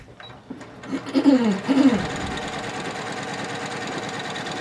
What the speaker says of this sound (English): And I sew 6 together.